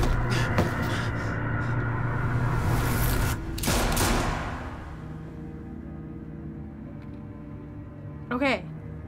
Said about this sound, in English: There were two gunshots.